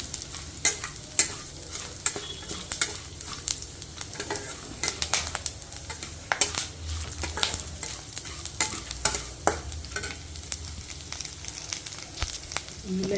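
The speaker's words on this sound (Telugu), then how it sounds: "ఎండి మిరపకాయలు వేసేస్తున్నానండి పైన ఓ పోయిందండి తాలింపు" Oil sizzles and crackles steadily as dried red chillies are tempered in it, with frequent sharp pops and clicks of stirring, close by and continuous throughout.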